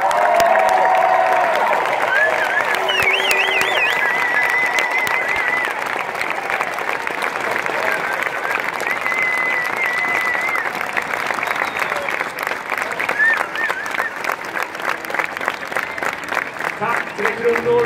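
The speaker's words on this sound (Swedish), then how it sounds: "härlig applåd för Tre Kronorna innan de lämnar oss" A large outdoor audience at Sergels torg applauds the Tre Kronor vocal group, dense sustained clapping with scattered cheers running the whole time, with voices heard at times over the applause.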